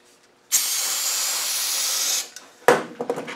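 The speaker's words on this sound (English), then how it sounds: "we're going to again use our brake cleaner" A loud, steady aerosol hiss sprays for about two seconds, followed by a few clanks and short shuffling sounds nearby.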